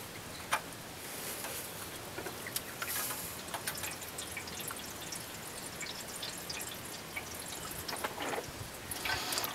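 Engine oil draining from a vehicle during an oil change, a faint, steady trickle with scattered small drips and ticks, no talking.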